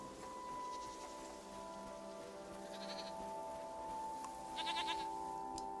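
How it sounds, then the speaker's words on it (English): Goats bleat in the farm video game SEASON, with a few short, faint bleats over a steady backdrop of tonal game music and soft rain-like noise. "Dear future person, are there goats where you are?"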